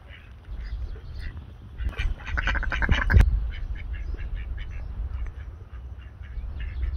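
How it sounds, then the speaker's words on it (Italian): Wild mallard ducks and geese on Lake Garda in Trentino quack and honk in a noisy burst, with a dense run of calls in the middle over lapping outdoor ambience. "arrivano altre anatre, probabile si azzuffano"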